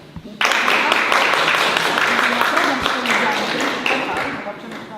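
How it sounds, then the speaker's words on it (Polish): An audience bursts into applause for a pupil at a first-grade induction ceremony held by a Polish school at the embassy in Rome, with dense clapping starting abruptly and continuing steadily while voices talk. "Brawa za Pamela."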